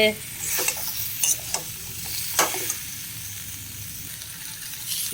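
Curry leaves fry in hot oil with a pointed gourd vegetable curry, giving a constant sizzle broken by several sharp spoon scrapes and stirs against the pan.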